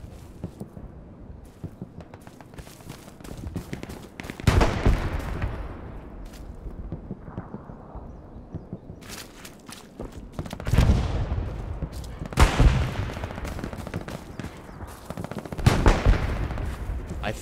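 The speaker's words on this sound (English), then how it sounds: "I just hear gunshots in the forest, dude." In a forest in the World War II shooter Hell Let Loose, rifle and machine-gun fire rattles out in scattered bursts, some distant and some sharper and nearer, with occasional heavy bangs and quiet talk in between.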